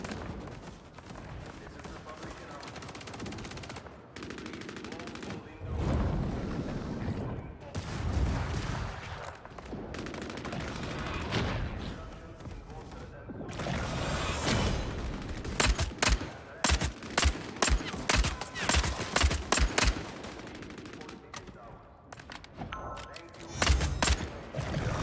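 Automatic AK rifle fire in the vampire battle royale game Vampire: The Masquerade Bloodhunt, with repeated sharp bursts and rapid shots growing denser toward the end over a busy game soundscape.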